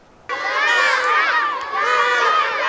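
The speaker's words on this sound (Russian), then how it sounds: "Десятки игроков и болельщиков на поле, подбадривающие крики и спортивный азарт" Children and spectators cheer and shout together at a school sports competition, a loud crowd of excited young voices that bursts in suddenly and keeps going with a brief dip near the end.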